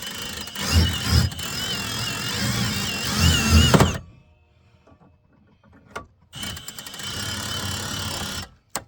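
A power drill whirs loudly for about four seconds, stops, then runs again in a second long burst, with a low grinding rumble under the motor, as it turns the lift crank of a pop-up camper.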